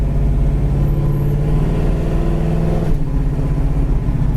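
A 1966 Ford Fairlane engine runs steadily and loudly, its automatic transmission with a shift kit and small stall converter taking a gear change partway through, with the low engine drone holding alone throughout.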